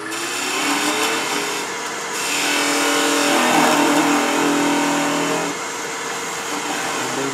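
A wood lathe hums steadily while a skew chisel parts off a traditional wooden coffee scoop, a continuous whirring cut with a rising and falling pitch, close and loud, no voices.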